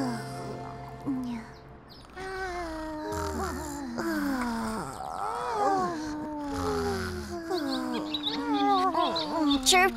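Cartoon bird chirping in a children's animated show: a series of rising and falling tweets and squeaky calls, fairly close and lively, with other cartoon sounds mixed in.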